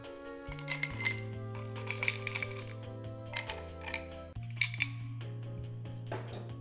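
Heat-smoked ice dropped into a rocks glass while mixing a Johnnie Walker Platinum Label drink, several bright clinks and rattles in close bursts as the cubes knock against the glass and each other, heard near and alone.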